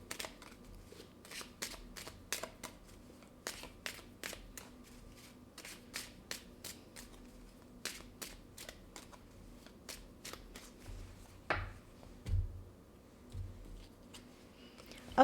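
Tarot cards being shuffled and drawn, a steady run of crisp, quick card flicks and riffles across the whole stretch, close and fairly quiet, with a few soft thuds and rustles near the end and no talking.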